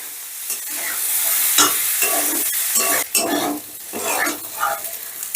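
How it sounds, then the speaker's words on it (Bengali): Potatoes and peas sizzle and crackle in a hot pan while a utensil scrapes and stirs through them in repeated, uneven strokes, close up with no talking. "এবার এই সমস্তটা আবারও আমি একটু ভাজা ভাজা করে নেব।"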